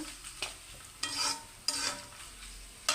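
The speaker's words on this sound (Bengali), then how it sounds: "এখন দেবো আমি এখানে পেঁয়াজ আর রসুন কুচি। পেঁয়াজ রসুন আমার ব্রাউন কালার হয়ে গেছে।" Chopped onion and garlic are stirred in a hot pan with cumin and mustard seed, with soft crackling sizzle and several distinct scraping bursts as the spoon moves.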